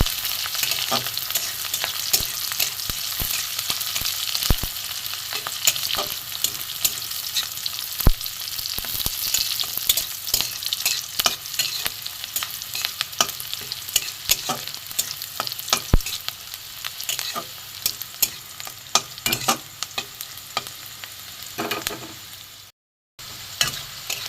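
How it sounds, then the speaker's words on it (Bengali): Close, steady sizzle of chopped onion and green chilli frying in oil, punctuated by frequent clicks and scrapes of stirring, with a brief dropout near the end. "পেঁয়াজ আর লঙ্কা কুচি ভালো করে একটু ভেজে নেবো"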